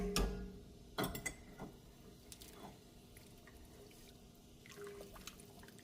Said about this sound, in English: I'm going to add 2 15-ounce cans of drained beans